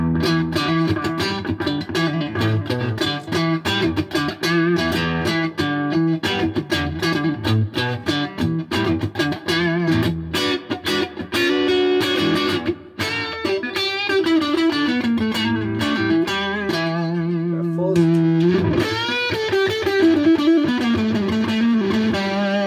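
A Telecaster electric guitar with a coil-tapped humbucker pickup plays a continuous run of distorted, effects-laden notes and chords at steady volume for over twenty seconds, with no voice over it.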